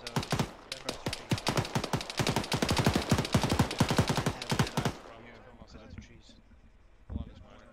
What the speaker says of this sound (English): I'm hearing gunshots to our south.